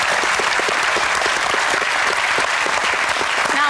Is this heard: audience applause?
yes